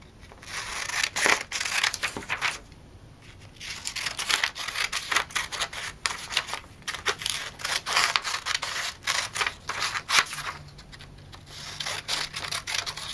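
Scissors snip and slice through fabric while bag pattern pieces for a fringe bag are cut out, giving a steady run of crisp, close cuts and soft paper-and-cloth rustles with no talking.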